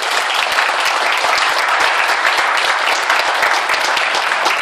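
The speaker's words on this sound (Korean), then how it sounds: "축하의 박수와 함께 응원의 박수 자리로 돌아가실 때까지 부탁드리겠습니다" Sustained audience applause fills an indoor honorary doctorate conferral and professorship appointment ceremony at ASU American Sports University, with dense, steady clapping from many hands held at a loud, even level throughout and no voices over it.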